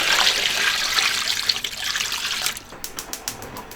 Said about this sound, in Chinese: 下锅煮哈，加水。